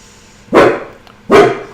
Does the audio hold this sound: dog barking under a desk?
yes